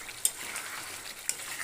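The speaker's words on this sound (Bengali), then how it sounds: "ভালো করে কষবো, অনেকক্ষণ কষবে।" A spiced curry with red chilli powder frying in a pan, a steady close sizzle broken by two faint scraping stir strokes, with no voices.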